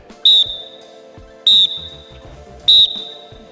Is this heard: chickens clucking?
no